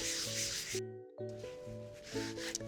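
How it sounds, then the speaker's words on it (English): A rolling pin rubs and scrapes across sugared cookie dough in soft repeated strokes, with a brief pause between passes and background music playing. "Grab your rolling pin, and you're just gonna roll this out."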